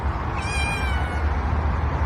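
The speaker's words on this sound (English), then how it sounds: "Meow." A single drawn-out cat meow, fairly faint, over a steady low rumbling background with no talking.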